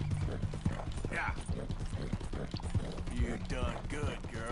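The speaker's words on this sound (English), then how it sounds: "The horse is running out of stamina quicker because I'm not fed her in a while." Horse hooves clip-clopping in a steady trotting rhythm while riding in a cowboy video game, close and clear, with someone talking over the hoofbeats throughout.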